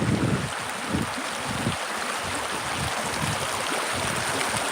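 Water flows and laps along a shoreline outdoors in a steady, close, broadband wash with irregular splashy surges. Faint wind noise runs underneath, and nobody speaks.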